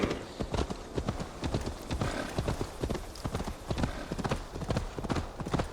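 Horse hooves clip-clop at a steady trot in Assassin's Creed Valhalla, a crisp rhythmic run of hoof strikes that stays close and fairly loud throughout, with no talking over it.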